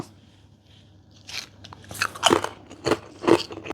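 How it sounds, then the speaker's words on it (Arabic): Close, crisp crunches of barbecue-flavoured fried potato chips being bitten and chewed, several sharp bites after a quiet start, with no talking. "مبين عندنا البطاطا حيل مقلي، فخلينا نشوف الطعم"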